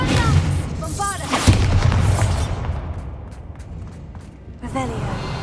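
A Bombarda explosion spell going off in Hogwarts Legacy, a loud booming blast early on followed by rumbling debris and combat noise that fades, with a voice speaking over parts of it.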